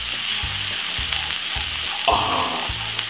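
Garlic, white onion and spring onion fry in a pot for chicken fried rice, giving a loud, steady sizzle with regular thuds from stirring, close up and without voices.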